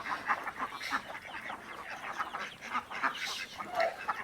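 Ducks in a large park in Barishal give a run of repeated nasal quacks and honks, several birds calling over one another at fairly low volume.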